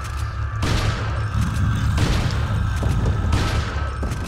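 Gunfire in Resident Evil 4, several loud blasts spaced about a second or more apart over constant low rumbling game noise.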